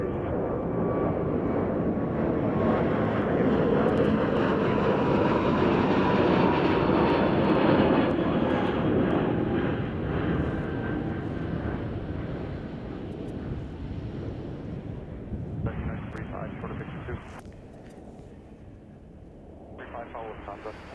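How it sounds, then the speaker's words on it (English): Spirit Airlines Airbus A321neo jet departing Chicago O'Hare, a loud roaring engine rush that builds and then slowly fades as it climbs away, with wind buffeting the microphone and someone talking over it. "That was Spirit Airlines Flight 172 heading to San Juan on an A321neo."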